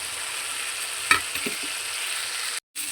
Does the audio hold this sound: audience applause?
no